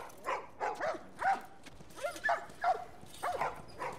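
Several dogs in The Last of Us Remastered bark in a steady series of short, fairly quiet yaps and woofs, spaced irregularly over a few seconds.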